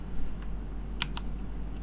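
Typing on a computer keyboard gives two or three quick, faint key clicks over a steady low hum.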